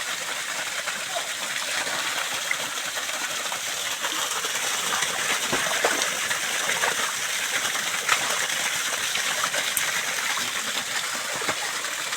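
Water runs on a farm, filling a makeshift outdoor bathing spot; a steady, close, broadband gushing and splashing continues evenly throughout with no clear talk.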